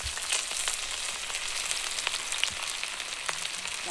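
Onions fry in oil with dried red chillies in a pan, giving a steady, fairly soft crackling sizzle with scattered pops throughout and no talking.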